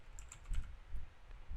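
Quiet typing on a computer keyboard, a short run of light, irregular key taps close to the microphone with no voices.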